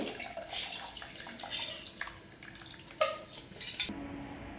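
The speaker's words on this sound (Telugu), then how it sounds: "ముక్కలు మునగగా నీళ్ళు అయితే పోసేసుకున్నా" Water splashes and pours in uneven bursts into a pot of vegetable pieces, with a few clinks, then stops abruptly near the end.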